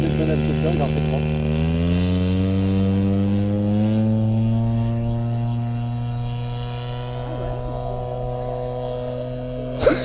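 A light propeller airplane weighing about 300 kg takes off, a steady droning engine hum with rising pitch over ten seconds, fairly loud and continuous, with faint voices in the background.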